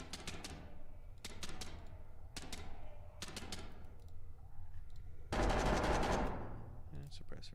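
Rapid bursts of rifle fire from an AK in the game SCP: Pandemic, several short volleys spaced apart, followed by a louder sustained stretch of shooting near the end, with speech faintly present in the background.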